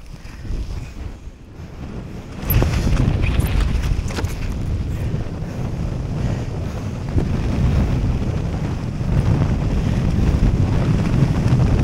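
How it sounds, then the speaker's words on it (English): Strong wind buffets the microphone during a wing foil session on the water off Jupiter, a constant loud rushing roar that swells after the first few seconds, with faint water wash beneath and no talk. "You hear that wind?"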